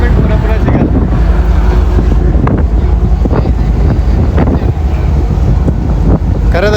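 A fast boat ride on open water in loud, constant wind roar that buffets the microphone, with the rumble of the boat beneath and faint voices now and then.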